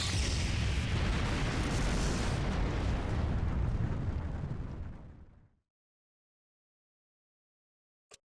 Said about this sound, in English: looks like the big explosion is about to happen